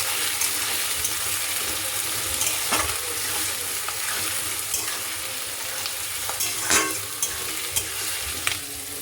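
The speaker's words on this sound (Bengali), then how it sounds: "পেঁয়াজটা ভালো করে ভাজতে হবে।" Onions frying in a pan as part of kasuri methi chicken cooking, a steady broadband sizzle throughout with occasional stirring scrapes and spatula knocks, close and fairly loud with no talk.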